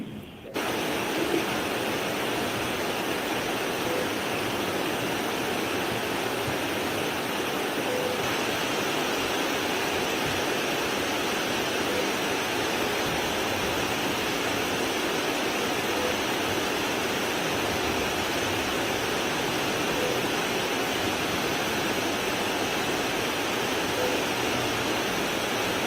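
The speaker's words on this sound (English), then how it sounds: "It's their sidebar white noise," Courtroom sidebar white noise plays as a steady, even hiss that masks private conversation, continuous and unchanging for the whole stretch at moderate volume.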